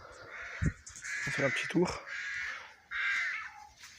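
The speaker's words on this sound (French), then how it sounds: "il y a les oiseaux qui sont très très chiants en train de piailler" Crows cawing repeatedly outdoors in harsh, drawn-out calls, fairly close and loud, while someone talks over them during a ride in an electric car.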